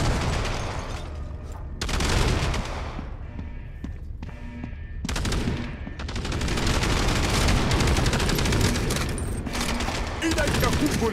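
Gunfire and a grenade blast in the World War II shooter World War Heroes, loud and dense, with rattling bursts and booming hits running almost without a break and heavy low rumble throughout.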